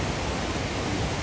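A mountain stream flows near Chipla in Lamjung, Nepal, as light rain begins. A steady, close, loud broadband rush stays unbroken throughout.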